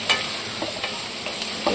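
Sliced onions, green chillies and curry leaves fry in a pan, a continuous close sizzle with occasional light stirring scrapes and no talking.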